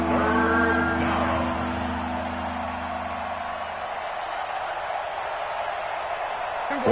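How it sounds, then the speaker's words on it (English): Stadium crowd noise in a PS4 football video game builds into a steady broadband roar as a big third down approaches, holding level behind a fading low tonal hum, with no clear distinct cheers. "the crowd getting into it as we come up on a big 3rd down"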